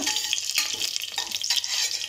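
Whole spices, including green cardamom, crackle and sizzle in hot oil for mutton curry, with a spoon stirring through them now and then; a busy, close kitchen sound.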